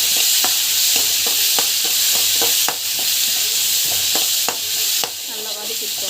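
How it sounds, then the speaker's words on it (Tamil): Spices with turmeric powder sauté in a pan, giving a loud continuous hiss and sizzle broken by regular scraping and tapping strokes as the mixture is stirred. "நல்லா வதக்கிக்கோங்க"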